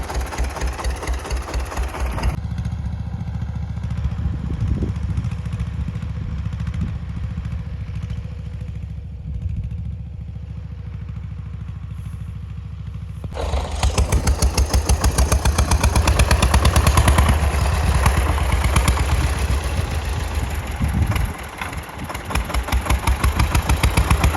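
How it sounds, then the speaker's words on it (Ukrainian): A small homemade tractor engine idles steadily with a low, rhythmic chug, dropping to a softer running note midway before picking back up to a louder, rougher idle. "Саморобний тракторець."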